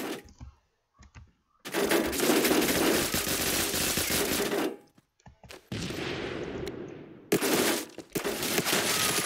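Gunfire in the Roblox shooter Phantom Forces, heavy automatic bursts in several long rattling runs separated by short silences, close and loud, with a faint keyboard tap between them.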